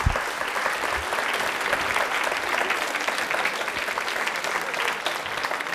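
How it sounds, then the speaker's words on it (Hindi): Studio audience at a televised quiz show with a women's engineering college team, clapping in sustained, dense applause at steady loudness from start to end. "लेकिन ताली बजा लीजिए, उनके सम्मान में बजाइए।"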